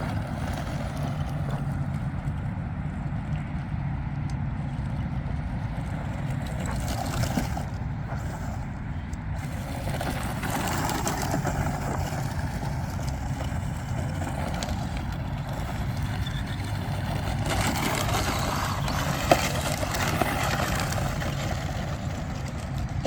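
A Traxxas Mini Rally Ford RS200 RC car runs continuously, its electric motor and gearing making a steady whine and buzz with wind and ground rumble, loud and close, with no talk.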